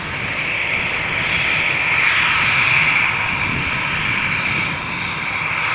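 An Air Baltic Airbus A320 jet airliner at Amsterdam Schiphol gives a loud, close, steady whine and roar of its engines, rising briefly before settling.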